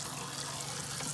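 Tap water runs continuously over a cyanotype print on watercolor paper during rinsing, a close, even splashing gush with no pauses.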